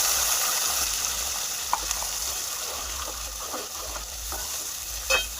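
Ground spice masala roasts in a pan for matar paneer, a loud continuous frying hiss with scattered stirring scrapes and a brief clatter near the end, close up and without talk.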